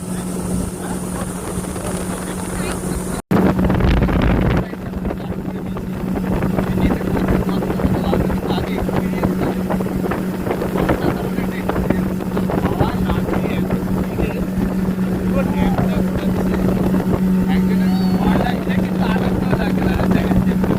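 A motorboat cruises on the lake at Ponmudi Dam near Munnar, its engine droning steadily and loudly throughout, with rushing wind and water noise after a brief cut near the start.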